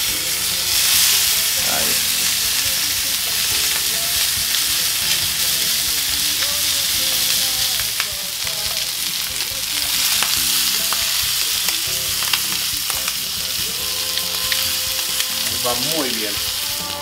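Pork tenderloin sears in a cast-iron pan with a loud, continuous sizzle and hiss, and occasional scrapes come through as a voice speaks briefly over it.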